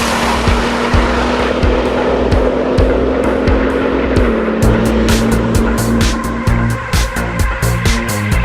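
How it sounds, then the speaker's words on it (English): A Bugatti Grand Sport Vitesse roadster drives at high speed with a loud, sustained engine drone, then shifts pitch as tires squeal and skid in sharp bursts toward the end. "It's the new Bugatti Grand Sport Vitesse, and it is quite simply the fastest roadster in the world."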